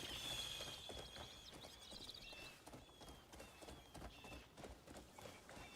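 Horse hooves clip-clopping at a run while riding in the video game Crimson Desert, a fairly steady rhythmic beat with faint musical tones above it.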